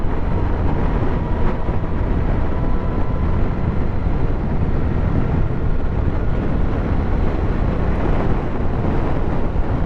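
A Suzuki GSX S1000 GT+ motorcycle on the move, its engine buried in a dense, steady roar of wind rush and road noise that stays constant throughout.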